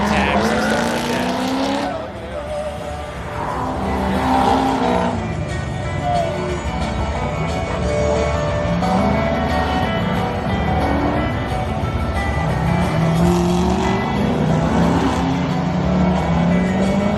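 A car runs an autocross course at LS Fest East, its engine rising and falling through the turns with brief tire squeal. Steady and fairly loud throughout, with voices talking over it.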